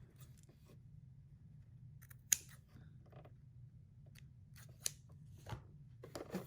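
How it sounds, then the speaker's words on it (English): Scissors snip through excess fabric on a homemade filtered face mask, a few faint close cuts scattered over a low steady background hum, with no speech. "Trim that extra piece off as well."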